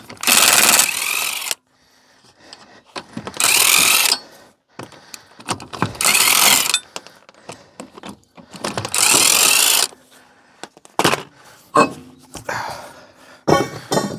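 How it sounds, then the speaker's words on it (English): An impact-style power tool rattles loose nuts on a Renault Vel Satis in several loud, harsh bursts separated by quieter pauses filled with clinks and handling noises. "Right, off with the nuts."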